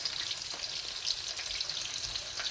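Onion pakora frying in hot oil, a dense steady close sizzle and crackle that runs without pause throughout.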